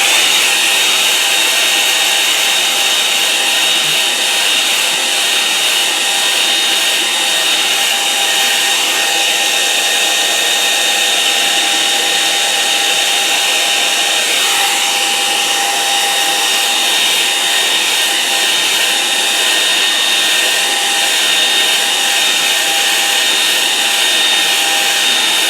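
A hair dryer blows on a watercolour painting of a Kent field in a steady, loud, unbroken whir with a high whine that holds for the whole stretch, and no voices.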